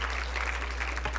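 Brief applause from an audience at an event for Governor John Hickenlooper, a short, fairly faint patter of clapping over a low steady hum.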